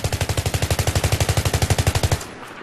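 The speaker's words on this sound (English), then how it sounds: "what happens when I fire this gun, the bullet spread and how the M416 behaves" Sustained full-auto burst from an M416 rifle in Battlefield, about twenty-five rapid, evenly spaced shots at a steady rhythm, loud and close, ending abruptly with a short tail.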